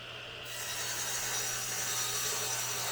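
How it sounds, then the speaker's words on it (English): Saw cutting a scrap wooden shelf board to size for a welding cart rebuild, a steady, loud, continuous rasping cut that starts after a brief softer moment and carries on unbroken. "I'm going to cut this piece of wood down to size."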